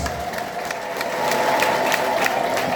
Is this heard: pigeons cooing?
no